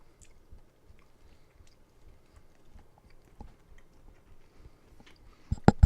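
Someone chews a sausage, egg and hash brown sandwich with faint, soft mouth sounds. Toward the end come a few sharp, loud crunches, close to the microphone.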